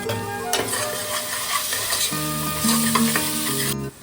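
Split green chillies, three of them, sizzle and fry steadily in a pan with ginger-garlic paste for Marathi-style mutton, a close, continuous hiss with stirring scrapes, no talking.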